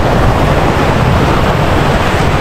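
Loud, steady roar of rushing floodwater during Typhoon Uwan in Nabua, broadband and continuous with no breaks, close to the microphone and no voices.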